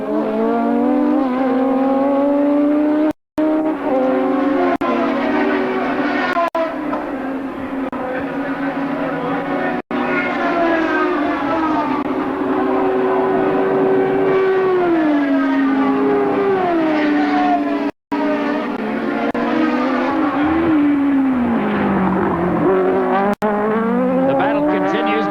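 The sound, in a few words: Formula Pacific race cars racing at the New Zealand Grand Prix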